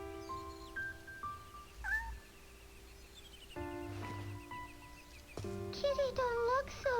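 A cat in the video game Shenmue meows several times in clear, rising and falling calls over a tonal game music background, with a final cluster of short meows near the end.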